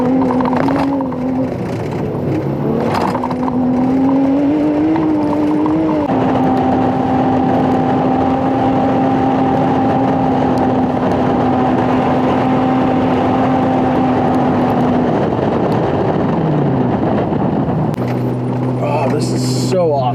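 A Jeep Wrangler Rubicon JL in 4-wheel drive climbs sand dunes in the Yukon, its engine droning loud and steady with shifting pitch throughout, with someone talking over it.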